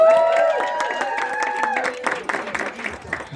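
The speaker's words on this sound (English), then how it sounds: "Give her a round of applause." Audience applause at an organic growers' gathering, a dense patter of clapping rising under a sustained sung or droned tone that fades, with the clapping thinning toward the end.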